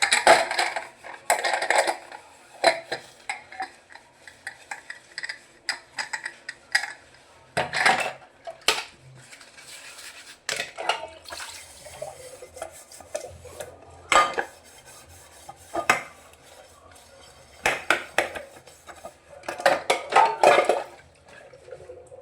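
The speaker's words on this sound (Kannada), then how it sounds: "ಇಷ್ಟು ಮುಸ್ರಿ ಇದೆ, ತೊಳಿಬೇಕು ಈಗ." Dirty dishes clatter and clink in a sink under running water, pots, pans and cutlery knocking together in irregular bursts, close and fairly loud, with no talking.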